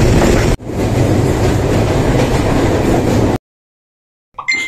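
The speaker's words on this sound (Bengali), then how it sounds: "ট্রেনটা কিন্তু ছেড়ে যাচ্ছে খুলনা থেকে" A train pulling out of Khulna station rumbles loudly and steadily with clattering wheels for about three seconds, then cuts off abruptly to silence before a brief faint noise returns.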